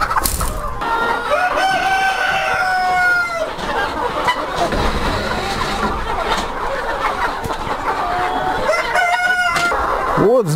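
Roosters crow repeatedly in a chicken coop, one long drawn-out crow near the start and another later, over a constant background of clucking hens.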